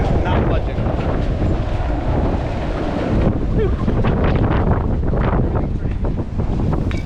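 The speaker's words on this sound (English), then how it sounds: "Even as the wind increases," Strong wind roars steadily across a marina during Hurricane Hilary, buffeting the microphone with loud, continuous rushing and gusts, with rigging and water noise mixed in throughout.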